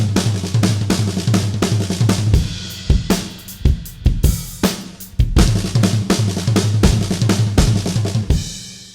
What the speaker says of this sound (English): So let's try this chop in the context of a beat.